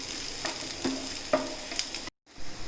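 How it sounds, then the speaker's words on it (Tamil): Onions sauté in a pan with a steady, close sizzle and soft stirring scrapes, ending in a brief pause before the frying noise resumes. "இந்த வெங்காயம் வந்து நல்லா பச்சை வாசனை போய் பொன்னிறமாக வர வரைக்கும் நல்லா நம்ம வதக்கிக்கலாம்"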